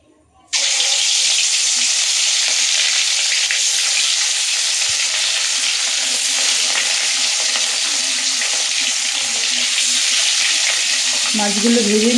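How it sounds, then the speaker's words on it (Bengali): Katla fish and prawns frying in hot oil in a wok: after a moment of quiet, a loud, constant, close sizzle spatters on without letup. "মাছগুলো ভেজে নিই।"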